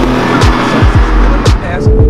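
A Peugeot 308 Racing Cup race car drives with an engine that rises and drops in repeated sharp pitch sweeps as it shifts, with a brief tire squeal or two. The sound is loud and close.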